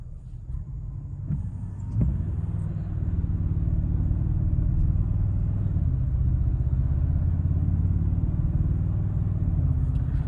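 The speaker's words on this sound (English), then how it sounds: "I think that this is a very nice accelerating truck, and" A 2024 Toyota Tacoma TRD Sport hybrid pickup accelerates hard, its engine and road rumble building to a steady, loud drone heard from inside the cab, with no talking.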